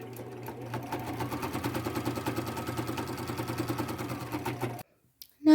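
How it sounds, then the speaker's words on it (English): A sewing machine top-stitches a folded pocket down onto a plain white shirt, a steady rapid chatter of needle strokes running for several seconds before stopping abruptly, close and fairly quiet with no talking. "I'm going to stitch that down right on the top stitch line right here"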